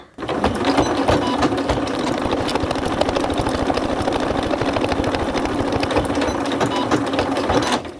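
Sewing machine stitching small pieces of a fabric teddy bear, a fast steady mechanical whirr and needle chatter running continuously and close for several seconds without talk.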